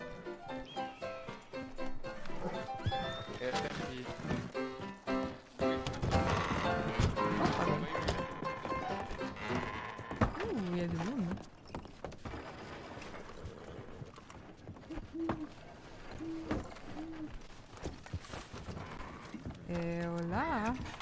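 A horse in a French drama scene, walking with clip-clop hooves amid rattling mechanical noise, with brief whinnying calls near the end and spoken dialogue over parts of it.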